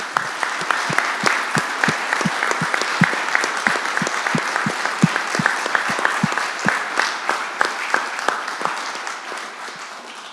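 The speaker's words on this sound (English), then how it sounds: "One more round of applause for these great" Sustained applause from a crowd at a city council meeting, steady dense clapping with sharper individual claps standing out, continuing for the whole stretch without voices.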